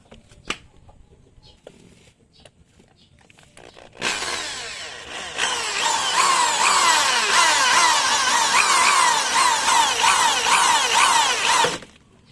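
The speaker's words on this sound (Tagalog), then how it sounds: "So gamitin mo muna 4mm tapos 8mm na drill bit." A power drill with a 4mm bit bores a hole while installing a dual shock conversion kit, starting with a few faint clicks before a loud, steady whining drill run of about eight seconds that stops abruptly.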